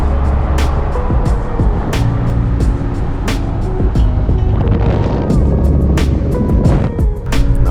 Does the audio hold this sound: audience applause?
no